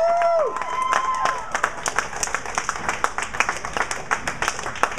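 Applause and scattered cheers from a crowd at a junior bowling tournament final in Simi, a dense patter of clapping that follows a brief whistle-like tone at the start.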